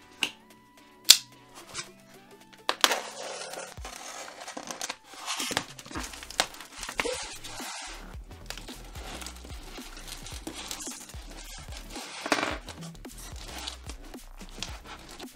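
Styrofoam packaging being cut and broken apart to free small collectible figures: a run of sharp snaps, squeaky crinkles and tearing scrapes, close and fairly quiet, with no talking.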